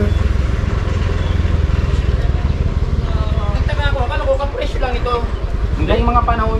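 A motorcycle engine chugs nearby in a rapid, steady pulse that lasts the whole stretch, while people talk over it.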